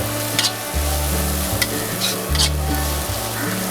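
Chopped onions sizzle steadily in a hot pan for chilli parotta, a continuous close frying hiss with a low periodic hum and occasional sharper spatters as they are stirred, no voices.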